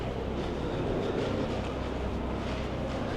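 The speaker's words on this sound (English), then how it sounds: "I'm kind of stuck in this train station" Steady rumbling ambience inside a Paris Metro train station, a continuous low roar of rail and station noise holding at an even level throughout with no clear voices.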